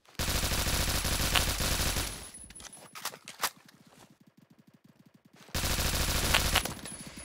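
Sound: gunfire in a video game

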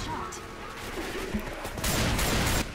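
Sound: shotgun fire in a video game, shooting the Witch

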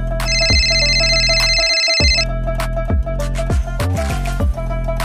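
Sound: mobile phone ringtone ringing

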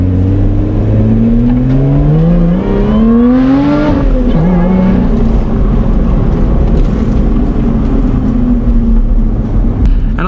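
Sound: sports car engine with open exhaust

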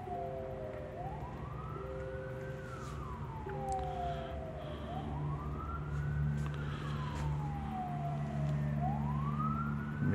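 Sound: American police siren

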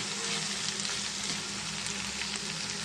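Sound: onion and tomato being stirred and frying in a pan

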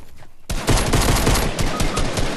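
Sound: pistol gunfire in a video game

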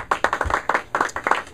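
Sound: loud applause

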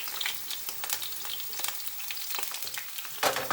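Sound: eggplant frying in hot pan

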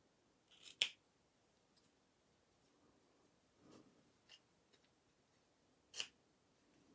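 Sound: cutting out stamped Christmas card with scissors

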